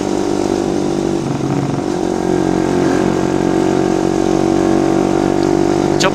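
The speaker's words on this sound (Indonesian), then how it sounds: "Jadi kita ini ada 8 motor coy." A group of eight motorcycles riding together on a hilly route, with a loud, steady engine drone throughout, close and continuous, with no break.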